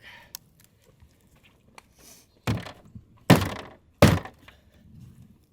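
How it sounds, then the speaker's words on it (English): Magazine inserted into an AR-15 rifle after torture testing, with a few faint clicks and rustles followed by three sharp, close thunks a second apart. "Now let me put that mag back in there."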